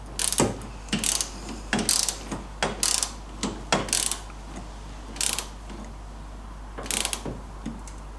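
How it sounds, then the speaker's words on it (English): A torque wrench ratchets on the upper fulcrum bolt of an MGB's front suspension, giving repeated sharp clicking bursts in an uneven rhythm, close and fairly loud, over a low steady hum, with no talking. "So the upper fulcrum there is 40 foot-pounds, so that's 54 Newton meters. So again, let's just get the torque wrench on there."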